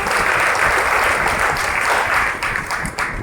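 Applause from a church congregation at a Diwali service at the Sagarmatha shrine, dense and steady clapping from many hands that carries on throughout and eases off slightly toward the end.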